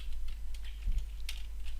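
A computer keyboard is typed on in a quiet room, with a soft run of light key taps and a slightly firmer cluster near the middle, no voice.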